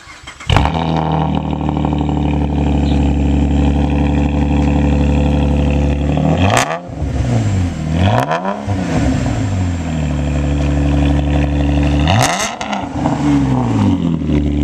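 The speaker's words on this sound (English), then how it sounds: "Changed them out to cherry bombs, of course. Sounds much better. So we're going to start it up real quick." A 2008 Pontiac G6 fitted with Cherry Bomb mufflers starts up, then idles with a deep exhaust rumble broken by three sharp revs that rise and fall, loud and close.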